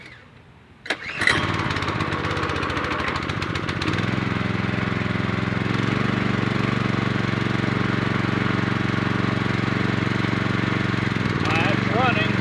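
A Generac pressure washer's small gasoline engine, running on a newly replaced carburetor, is pulled to a start with a few sharp bursts and then settles into a loud, steady, close-up drone that holds for the rest of the time.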